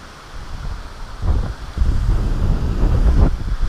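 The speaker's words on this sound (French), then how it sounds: "Il y a vraiment un vent de ouf." Strong wind roars and gusts against the microphone at a carp fishing spot, swelling louder in low rumbling waves with no voices.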